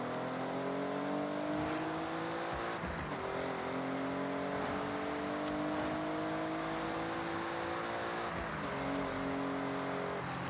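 A car engine in a racing video game revs continuously, with rising tonal whine and gear shifts around a steady drone, plus brief tire noise, heard alone at moderate level.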